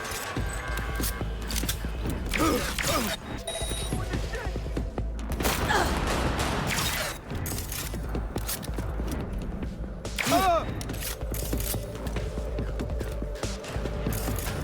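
Gunfire in Cyberpunk 2077 Phantom Liberty: loud bursts of rapid automatic fire and mechanical clatter come in several waves, with short gaps between them, close and dense.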